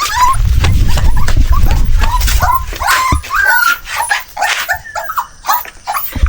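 Three dogs playing by a river: close, loud whimpers, yips and whiny vocalizations mixed with panting and scuffling, coming in uneven bursts.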